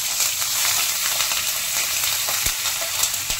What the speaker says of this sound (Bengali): এবার কড়াইতে সর্ষে আর কারি পাতা ফোড়ন দেবো, আর তার সাথে কাঁচা লঙ্কা